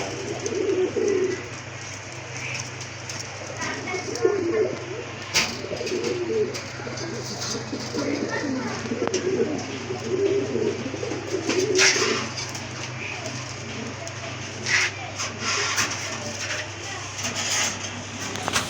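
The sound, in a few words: pair of white-breasted Rajgolla pigeons cooing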